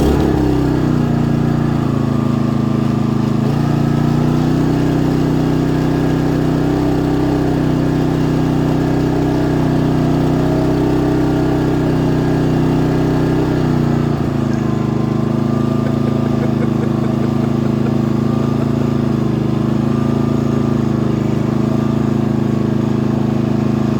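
A Pulsar 4000W dual fuel generator runs at a loud, steady engine drone close up, with a slight shift in pitch partway through and a continuous rumble that lasts the whole stretch.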